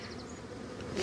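Dense, steady buzzing of many honey bees close by on hive frames, a continuous low drone with no pauses throughout.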